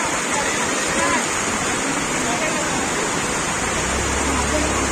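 Floodwater surges across a road during torrential rain in Bhatkal, a loud, unbroken roar of rushing water that fills the whole clip, with a few dull knocks early on.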